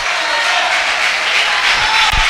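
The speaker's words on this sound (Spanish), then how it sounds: "levante un aplauso que glorifique al Rey de Reyes y Señor de Señores" Applause from a church congregation, a dense, sustained wash of many hands clapping together at full volume throughout.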